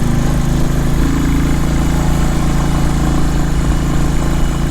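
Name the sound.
motorcycle engine running, bike with dual channel ABS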